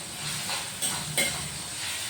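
Garlic frying in a pan, a soft continuous sizzle and hiss with a couple of brief louder crackles from stirring, close and quiet, with no one talking.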